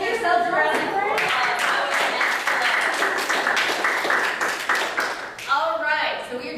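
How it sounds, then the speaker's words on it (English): Workshop participants at a LARP acting and character-creation session give themselves a round of applause, a loud burst of clapping with cheers, briefly framed by a voice talking before and after. "give yourselves a round of applause"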